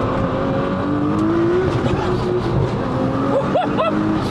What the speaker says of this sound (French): t'entends vachement le moteur